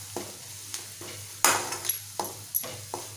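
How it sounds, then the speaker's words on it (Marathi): Turmeric and Malvani masala sautéing in hot oil in a pan for a Malvani drumstick and potato curry, with a soft sizzle under several distinct stirring scrapes spaced through the clip, close and moderately quiet. "आणि परतून घेऊया।"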